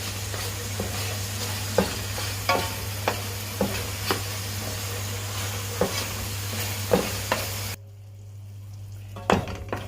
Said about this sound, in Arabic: نقلب كده كام تقليبه قبل ما نحط الفلفل